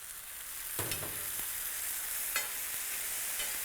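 Chicken rice pulao being stir-fried on a tawa griddle, with a steady low sizzle and a few distinct scraping stirs of a spatula, heard close and on its own.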